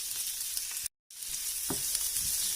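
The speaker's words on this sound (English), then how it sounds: "put in your peas and your carrots. Just give it a slight stir with the spatula" Peas and carrots frying in a pan, stirred with a spatula, a steady bright sizzle broken by one brief dropout and a soft scrape of the spatula against the pan.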